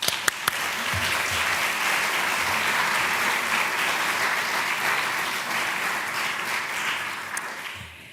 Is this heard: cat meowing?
no